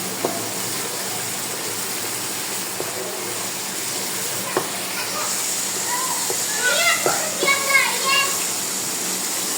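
Ghee sizzling and spitting as keema fries in a pan, a steady close hiss with scattered pops and crackles, under a background of voices in the kitchen.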